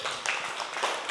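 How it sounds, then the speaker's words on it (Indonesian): Children in a classroom clap together for a classmate, producing a brief burst of dense, steady applause at close range with no talking over it. "Tepuk tangan untuk Nailul."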